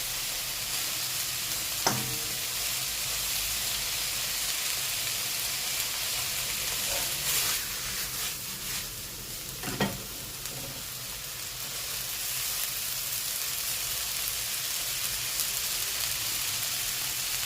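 Egg fried rice sizzles steadily and loudly in a hot pan while ingredients are folded in, with a dense continuous crackle and a few faint scrapes and clinks of stirring, no talking.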